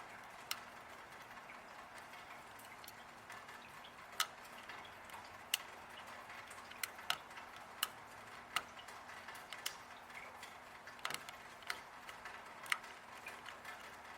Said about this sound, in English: once the lock is picked, the core will rotate and then the deadbolt will slide in.